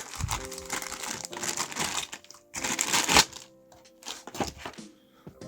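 A plastic bag from a 1/72 scale model kit box crinkles and crackles in bursts of handling, loud rustles separated by brief pauses, close up with no talking.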